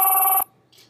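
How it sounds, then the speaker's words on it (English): An iPhone 5 ringtone plays loud and close for a moment before cutting off abruptly as the incoming call is declined, leaving near silence with a faint rustle. "So that declines the call, stops it from ringing"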